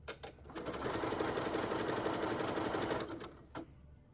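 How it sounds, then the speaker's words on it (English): A serger stitches steadily around a shirt's armhole, a fast continuous whirring hum lasting about two and a half seconds, with brief starts and stops at either end. "I'm going to be serging all the way around the armhole or arm side"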